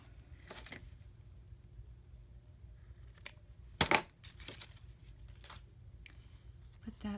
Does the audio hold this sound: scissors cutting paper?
yes